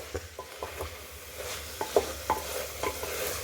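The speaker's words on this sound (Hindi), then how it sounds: "चलाते हुए गरम मसाला को इस तरीके से थोड़ा इसके साथ इसे अच्छी तरीके से भून लें।" Chana dal with garam masala being stirred and roasted in a pan for a hotel-style dal tadka, a spoon scraping in irregular strokes over a soft, steady sizzle, close and fairly quiet with no voices.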